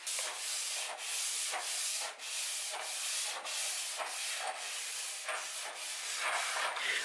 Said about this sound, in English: we're just sanding it and then oiling it